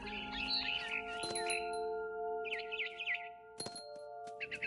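Chirping of a barn swallow in the game What Remains of Edith Finch, heard outside a window as it returns to its nest. Bursts of high, warbling chirps repeat over a steady tonal music bed, with a few sharp clicks.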